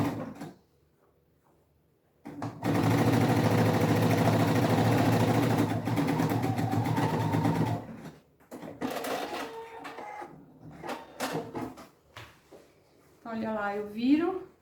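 A domestic sewing machine runs in one sustained burst, stitching the top edge of a fabric sewing machine cover, then gives way to handling noises and fabric rustle before someone speaks briefly near the end.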